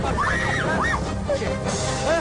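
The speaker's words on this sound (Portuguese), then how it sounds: "Eras tu a gritar." Woman screaming in a television show scene, several rising and falling shrill cries in quick succession over busy background noise, loud and close.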